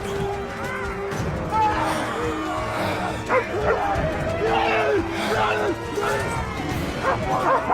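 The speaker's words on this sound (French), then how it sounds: "Ça, c'est un bon chien." A dog barks and whimpers in short, high yips under busy overlapping voices, continuing throughout at close range.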